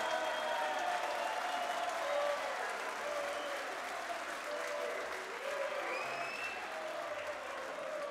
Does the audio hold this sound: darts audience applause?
yes